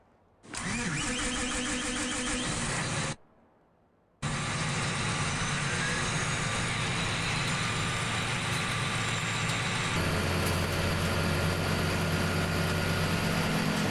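A tractor engine in Farming Simulator 17 cranks and starts, cuts out briefly, then restarts and settles into a steady, loud idle that continues to the end.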